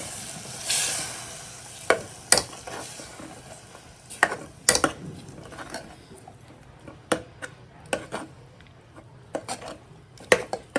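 Tomato kurma curry bubbling in a pot with water added, with sizzling, scattered sharp clinks and stirring taps of a utensil against the pot, close and moderately loud, no voices.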